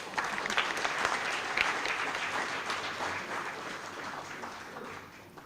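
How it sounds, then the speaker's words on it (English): Hall audience at a tribute event applauds the organizers, a steady, dense patter of many hands clapping from a distance, holding evenly and tapering slightly toward the end. "So a second round of applause to all of them."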